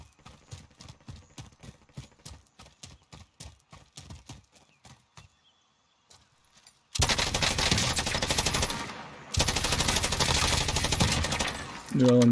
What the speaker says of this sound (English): New LMG's doing work